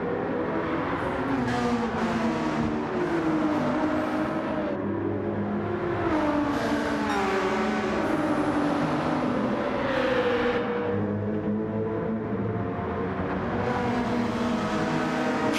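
Sim racing cars in a Midnight Oil league race, engines droning and revving continuously with overlapping gear-shift pitch sweeps, loud and close throughout, no talk.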